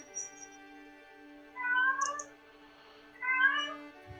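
A cat gives two clear, drawn-out meows about two seconds apart over a quiet steady hum. There is a faint brief squeak before the first meow.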